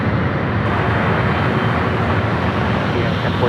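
A Delta airliner moves at San Francisco airport, its engine roar a loud, steady broadband rumble that holds throughout without letting up.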